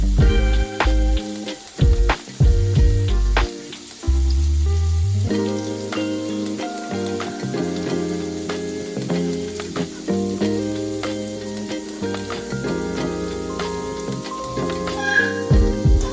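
Potato fritters frying in hot oil, steady close sizzling and bubbling with several clinks and knocks of utensils at the start, then a continuous crackling fry.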